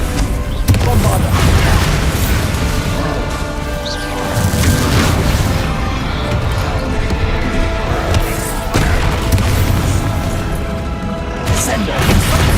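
Repeated booming explosions from the Bombarda spell in Hogwarts Legacy on PS5, loud and dense, layered with a game soundtrack and a shouted voice, several blasts spread across the stretch.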